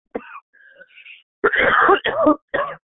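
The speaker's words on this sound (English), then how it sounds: "Got the cough thing going on" A person coughs and clears their throat in a few short, rough bursts, close by, with brief pauses between them.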